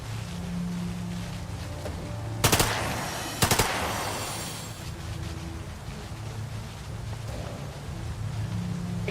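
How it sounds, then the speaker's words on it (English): Two short bursts of gunfire ring out from a turn-based combat scene in Lamplighter's League, sharp and close, set against a steady low ambient hum with no talking. "So let's shoot again"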